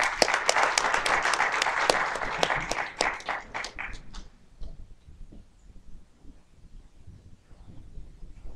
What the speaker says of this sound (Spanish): les pedimos un fuerte aplauso para animarla en estas conferencias